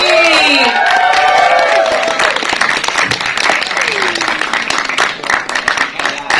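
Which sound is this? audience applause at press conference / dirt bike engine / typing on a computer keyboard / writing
audience applause at press conference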